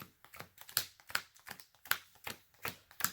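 Game cards in plastic sleeves are shuffled by hand, a quiet run of crisp slapping riffles in a fairly regular rhythm, each short burst sharp and close.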